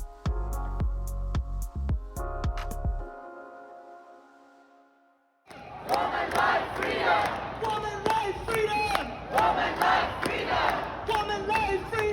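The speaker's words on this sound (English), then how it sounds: "A crowd cheered when her plane landed, chanting, "Elnaz is a heroine."" A crowd at an airport cheers and chants as a plane lands, loud massed voices with rhythmic shouting after a brief musical passage and a pause of near silence.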